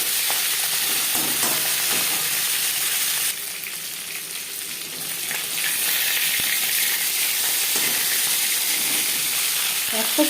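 Rohu fish pieces and head fry in a kadai with little oil. The sizzle is loud, steady and close, dips briefly midway, then swells again, with no talk.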